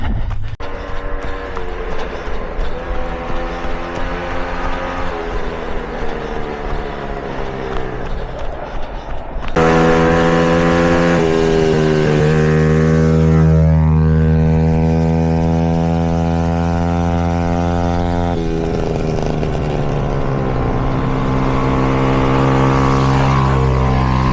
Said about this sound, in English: We seem to have quad bikes and motorbikes on the trail today